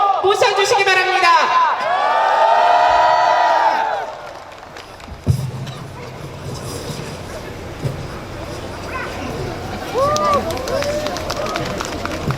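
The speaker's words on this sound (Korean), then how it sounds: "힘찬 박수로 모셔주시기 바랍니다" A large crowd at a political rally cheers and applauds, with a loud amplified voice shouting over it at first, then sustained clapping and crowd noise with scattered whoops.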